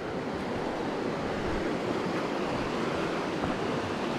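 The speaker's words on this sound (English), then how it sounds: "So, that's pretty fast moving water." Fast-moving creek water on a river where smallmouth bass are fished, a steady broadband rush that stays loud and even throughout with no voices.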